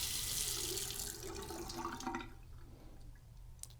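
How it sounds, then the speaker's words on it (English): Water rushes steadily from an opened hot-side faucet during water heater maintenance, a loud broadband hiss that gradually eases and thins toward the end, with no talk. "you want to open up the faucet on the hot side to let some of the pressure out"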